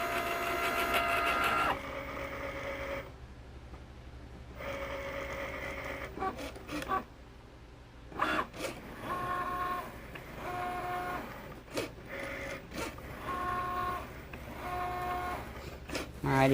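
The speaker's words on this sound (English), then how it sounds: "press that C again. And Cricut's going to cut it again in the exact same places" Cricut cutting machine running a second pass over a mat, its motor whirring and stepping in short bursts with pauses between moves, close and moderately loud, with brief spoken remarks mixed in.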